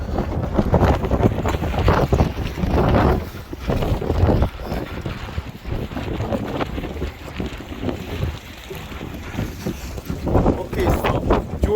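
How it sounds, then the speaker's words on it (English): Strong coastal wind at Kotor Bay buffets the microphone continuously, a loud roaring rumble with gusts rising and falling, while a voice speaks underneath. "it's extremely windy"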